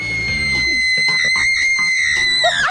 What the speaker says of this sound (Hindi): पागलों की तरह चिल्लाना बंद करो।